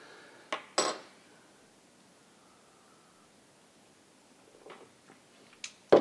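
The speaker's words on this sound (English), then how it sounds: "I'm going to stir my espresso because an espresso is good." A spoon stirring a cup of espresso: a few quick, light clinks against the cup, spaced apart with quiet stretches between, the last one near and a little louder.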